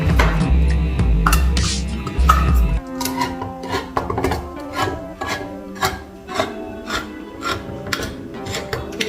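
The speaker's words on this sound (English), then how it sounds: "Love this can opener." A KitchenAid electric can opener cuts around a can, a loud motor whir at first, then a series of rhythmic scraping, rasping bursts close up.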